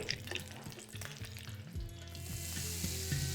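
Black mustard seeds, chana dal and urad dal sizzle and crackle in hot oil for a tempering, with steady frying hiss rising louder toward the end and some low clatter of stirring.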